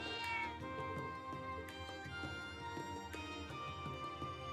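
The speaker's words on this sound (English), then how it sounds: "Gotta go say hi to the cat." Short, repeated cat mews from Trails of Cold Steel III ring out over continuous game music, a few separate calls across a few seconds with no voices.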